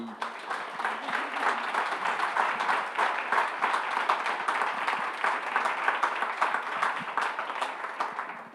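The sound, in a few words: audience applauding panelists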